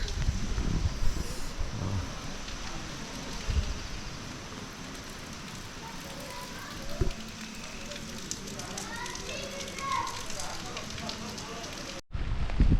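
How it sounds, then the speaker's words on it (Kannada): Light rain patters in a steady hiss amid heavy fog at a hill resort in Sakleshpur, with a few thumps, faint voices and birdlike chirps in the background. "ಮಳೆ ಬರ್ತಾ ಇದೆ"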